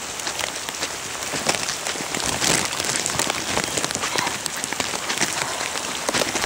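Heavy desert downpour flooding a house, loud close rain pounding surfaces in a continuous dense roar of splatters with no voices.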